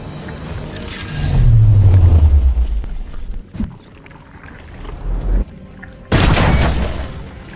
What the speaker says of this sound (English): We're gonna grenade that Overwatch.